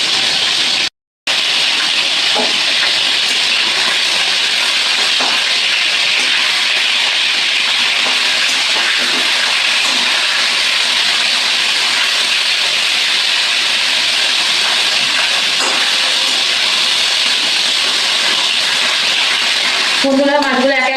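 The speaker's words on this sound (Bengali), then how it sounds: "বন্ধুরা মাছগুলো একে একে ভেজে নিই" Fish fry in hot oil in a kadai, giving off a loud, steady broadband sizzle that runs without a break, apart from one brief dropout near the start.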